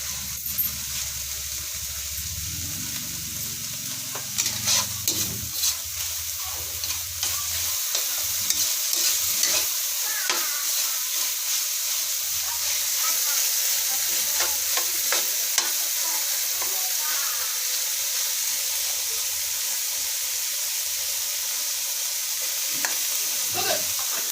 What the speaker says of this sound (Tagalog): gisang-gisa na po yung bawang sibuyas giniling sa kabagoong